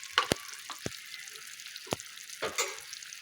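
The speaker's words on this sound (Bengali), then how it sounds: "আমি কাজু আর পোস্ত যে বেটে রেখেছিলাম, এটা আমি দিয়ে দিচ্ছি।" Cashew and poppy seed paste going into a frying pan, where it sizzles softly amid a few sharp clatters and stirring scrapes, close and fairly quiet, with no talk.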